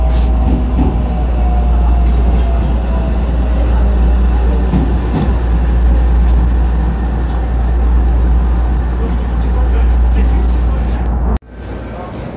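A train rumbles steadily with a deep low hum and rattling carriage noise as it arrives at Nakatsugawa Station, then the sound cuts abruptly near the end as it comes to a stop.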